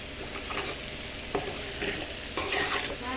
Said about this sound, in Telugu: కాసేపు ఉడకాలి.